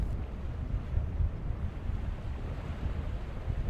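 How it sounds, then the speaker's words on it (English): An Azimut S7 Sportfly yacht with triple Volvo IPS diesel engines passes by, giving a steady, deep low rumble mixed with wind buffeting and water wash, moderately loud throughout. "First up, the Azimut S7 with triple Volvo IPS diesel engines."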